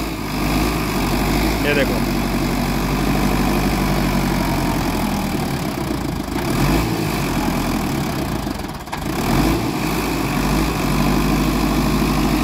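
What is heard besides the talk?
Sonalika Sikander DI 55 DLX tractor engine running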